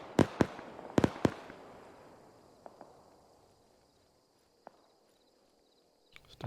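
Gunfire comes from a forest in the video game Arma 3, opening with a quick cluster of sharp, loud cracks and a long fading echo, followed by a few fainter, more distant single shots spread apart.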